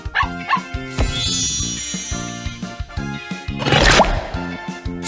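A cartoon puppy barks a few times in a Bubble Guppies children's video game, the short yaps sitting over bright, busy game music with chimes and watery sparkle effects.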